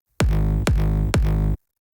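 Sub-layer kick from a sample pack, repeated three times in quick succession; each hit is loud and booming with a long sustained low tone, heard alone without talking.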